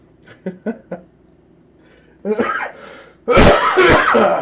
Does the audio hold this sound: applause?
no